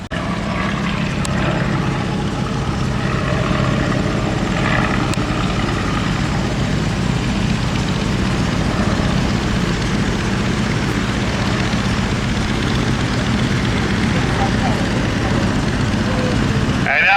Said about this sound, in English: Oh boy, the Black Baron's got the triplane cranked up now.